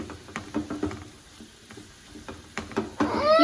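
Chili powder frying in a pan with okra, a soft sizzle and scattered light stirring clatter that swells louder near the end, close up with no talking.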